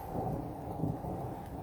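A low, rumbling roll of distant thunder fills the air, steady and muffled without sharp cracks.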